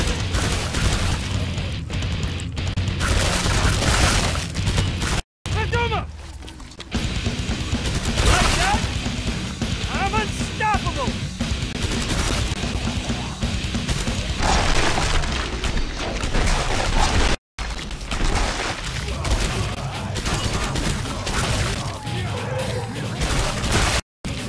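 Shooting and explosions in the Killing Floor 2 horror shooter on the burning Paris map, hard difficulty: a steady, loud din of gunfire with booms and crashes that runs almost nonstop, broken by a few brief cuts, with voices mixed in.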